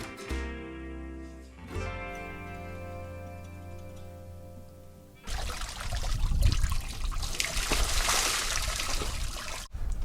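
A shower running aboard a sailboat at anchor: sustained tonal music plays first, then steady rushing spray of water takes over for the last five seconds, fairly close and moderately loud.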